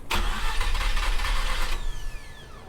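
Mazda RX8 rotary engine started with the key: a short crank catches and settles into a loud, close, rough idle.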